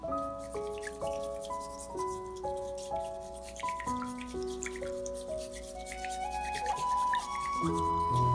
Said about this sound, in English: Pouring hot water to the bowl and mix it well.